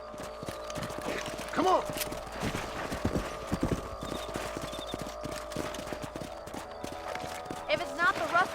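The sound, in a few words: horse hooves clip-clopping while riding, from the video game Red Dead Redemption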